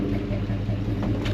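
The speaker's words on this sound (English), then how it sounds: "It's idling great." A Ford F100 pickup engine idles with a steady, low, even rumble, close and moderately loud, over a brief moment with no talking.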